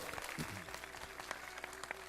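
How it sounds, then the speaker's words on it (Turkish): A group applauds after a child recites a Ramadan poem at an iftar gathering, with scattered individual claps standing out over a busy background and a faint hum. "Alkışlıyoruz evet"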